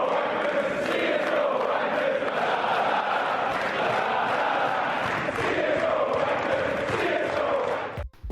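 A large esports crowd in a London arena roars and jeers at a CS match, a dense, sustained wall of shouting voices that stays loud throughout and cuts off abruptly at the end.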